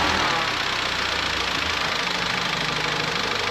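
Car engine running at a steady idle after a spark plug change during home servicing, a continuous even low rumble with a faint rhythmic knock, close by, no talking.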